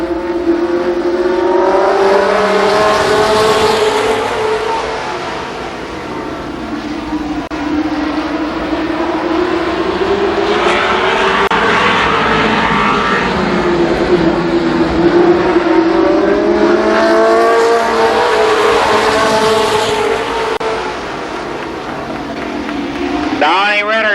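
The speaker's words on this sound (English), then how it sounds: "10 laps for the late model second heat race." Late model stock cars race at Columbus Motor Speedway in a steady, loud roar of engines that swells and fades as the pack circles, a track announcer talking over the noise throughout.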